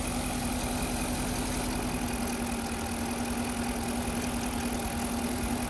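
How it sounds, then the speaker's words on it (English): A car engine idles steadily at low speed with a constant low hum and a continuous hiss of air drawn through a hose, close and unbroken with no talking. "you can audibly hear the air coming through that hose, as well as the engine operation changes slightly"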